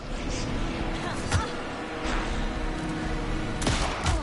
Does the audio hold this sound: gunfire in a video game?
yes